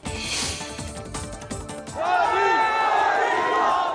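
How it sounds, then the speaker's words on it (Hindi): A large crowd of villagers gathered to see Prime Minister Modi in Bhabhra, Madhya Pradesh, chants his name in loud rhythmic bursts, swelling into a sustained roar of many voices. "मोदी मोदी के नारे भी लगे।"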